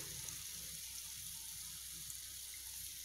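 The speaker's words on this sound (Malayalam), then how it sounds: "ഒരു ജസ്റ്റ് നമുക്കൊന്ന് വെള്ളം തളിച്ചു കൊടുത്താൽ മതി" Water sprinkled over potatoes frying in a pan on the stove, a soft, steady hiss and patter that stays even and close for the few seconds, with no voices.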